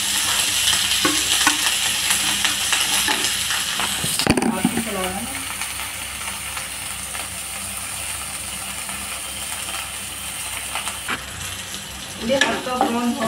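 Chopped onions fry in a pan for paneer chilli, a steady sizzle under intermittent scraping and rattling stir strokes, with a brief voice heard in the background.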